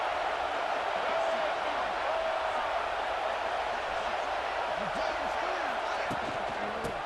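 A stadium crowd in the College Football 26 video game roars through a Texas versus Texas A&M matchup, a loud, dense, continuous cheer with whistling that fills the whole span.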